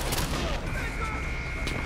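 Continuous gunfire in Far Cry 4, a dense, sustained rattle of shots mixed with a high whine, loud throughout the short stretch.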